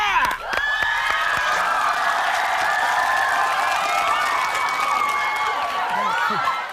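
Studio audience at a Korean TV variety show breaks into loud, sustained applause and cheering with whoops, a dense crowd roar that fills the whole stretch and fades slightly at the end.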